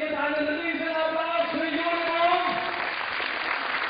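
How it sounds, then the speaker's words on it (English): A crowd at a women's bouldering World Cup qualification in Innsbruck gives sustained applause, a steady wash of clapping under a constant hum of venue noise, with a commentator talking over it. "she gets a nice round of applause for her efforts"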